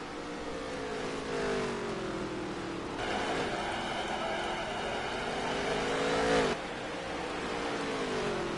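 Dirt touring race cars roar around a dirt track at a championship event, engines droning and shifting pitch as cars pass, with a louder surge midway and no commentary over it.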